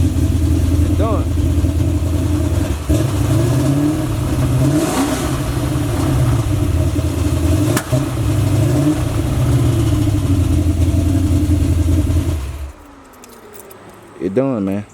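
A Chevy engine with a grooved crankshaft runs loudly and steadily up close, its pitch rising and falling with revs for about twelve seconds before cutting off abruptly. A short metallic clatter follows.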